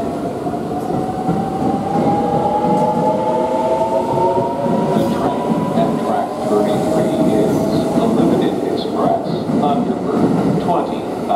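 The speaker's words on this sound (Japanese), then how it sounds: "特急サンダーバード20号" A limited express Thunderbird train runs at Tsuruga station, with a loud, steady rumble of wheels and motors, rising whining tones and rhythmic rail clatter close by. A voice can be heard faintly beneath the noise.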